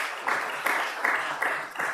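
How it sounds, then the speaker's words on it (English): An audience applauds the designers at a City Dock Action Group meeting, a steady, fairly quiet patter of many hands with a few louder swells, lasting about two seconds. "I'd like everybody just to give a big applause to our designers"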